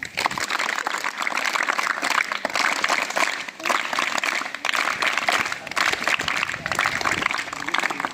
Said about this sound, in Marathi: टाळ्या वाजवा आता